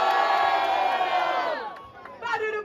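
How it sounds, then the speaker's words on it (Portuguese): Crowd at a rap battle final roaring and shouting in a sustained loud burst that fades after about 1.5 seconds, then a shorter whooping surge rises again near the end. "Barulho pra rima de Spike"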